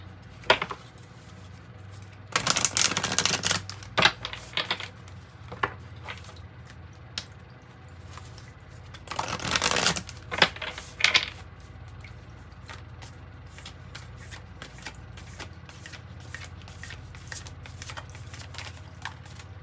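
An oracle card deck is handled during a tarot reading: two short, close bursts of papery card shuffling and riffling, with quieter card handling and faint table noise between them.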